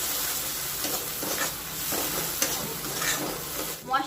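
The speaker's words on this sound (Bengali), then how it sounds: "এবার গুঁড়ো মশলাটা ভালো করে কষিয়ে নেব পেঁয়াজ, আদা রসুন আর টমেটোর সাথে।" Ground spices frying with onion, ginger, garlic and tomato for a Bengali masala crab curry, a steady close sizzle with scraping stir strokes from a spoon throughout, no talking.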